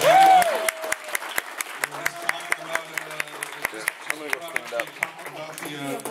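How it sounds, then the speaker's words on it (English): An audience claps at the Cinema Wasteland 21 fall convention show, a steady patter of hand claps that starts loud and settles into a lighter, even rhythm while voices talk over it throughout. "everybody give a round of applause for Cinema Wasteland 21 and Ken and Pam Kitsch"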